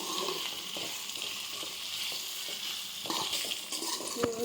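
Steady crackling sizzle of spices and sesame seeds frying in a hot pan for ivy gourd chutney, continuous and fairly close, with a few brief scrapes and clicks of stirring near the end.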